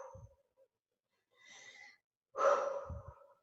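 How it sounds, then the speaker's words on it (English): A person breathing out during guided breathing: a soft exhale, a pause, then a fuller, louder breath out, close and quiet with no talk. "Just take a couple of breaths and breathe out."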